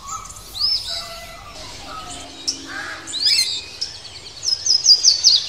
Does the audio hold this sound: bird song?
yes